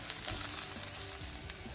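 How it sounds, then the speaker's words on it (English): Paprika and Italian seasoning sizzle and fry in a pan for empanada filling, with vinegar already added, a steady close crackle that runs throughout the short stretch with faint scraping stirs and no talk. "Give it a nice stir, and we're going to cook this for a minute to a minute and a half."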